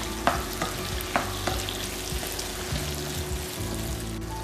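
Chopped onions and medium tomatoes sautéing in a pan for mushroom masala, a steady close sizzle with a few light stirring clinks and scrapes, no talking.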